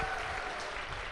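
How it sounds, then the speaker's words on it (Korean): Brief burst of audience clapping at a Korean seminar on network marketing, a short dense patter of hands heard at moderate volume in a hall, with no speech over it. "우리 방송팀에서 박수 한번 부탁드립니다."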